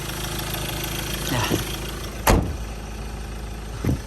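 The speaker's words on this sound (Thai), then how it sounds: "เป็นประมาณนี้ครับสำหรับเสียงเครื่องยนต์" A 2016 Ford Ranger 2.2 pickup with automatic transmission idles steadily with a low, even rumble, broken by a couple of brief knocks or clunks.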